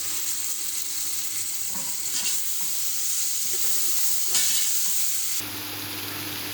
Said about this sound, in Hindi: अब मैं ये लहसुन अदरक का पेस्ट डाल दूँगी इसमें